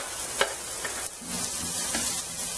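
Onion and ginger fry in a hot pan with a constant sizzle, while a spoon or spatula stirs through them now and then with a few sharp scrapes.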